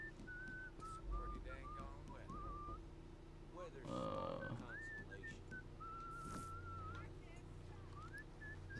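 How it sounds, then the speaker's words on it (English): Loud, piercing melodic whistling by a character in the Red Dead Redemption video game, wavering tunes that run through most of the stretch over low game ambience with a few brief thumps. "Is that him whistling?"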